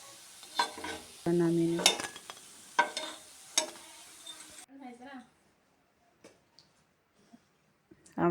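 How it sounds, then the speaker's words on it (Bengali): Pakoras deep-frying in hot oil give a soft sizzle alongside the clink and scrape of a utensil turning and lifting them, with someone talking over the first half before the kitchen goes quieter with sparse clicks. "উল্টো পাল্টে নিচ্ছি, ভেজে নামিয়ে নিচ্ছি।"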